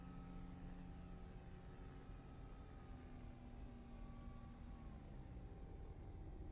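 A Diamond DA-62 light twin-engine aircraft taxis in X-Plane 11, a faint, steady propeller drone with a low engine hum that holds evenly throughout with no talking.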